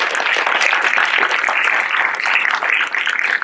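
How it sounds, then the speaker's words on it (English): An audience at a cinema event claps for high school speech and debate students, a steady, dense round of applause that holds evenly throughout, with no talking on top. "I think that deserves a round of applause for these"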